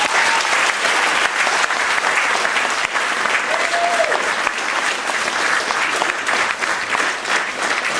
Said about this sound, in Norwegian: så jeg synes vi skal gi dem en stor applaus